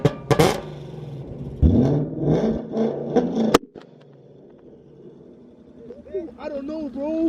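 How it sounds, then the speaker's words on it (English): A 5.0 car engine fitted with a 2-step launch control revs hard in loud bursts with sharp pops, then drops to a lower idle rumble while people talk over it. "I'm gonna put it higher RPM, hold on."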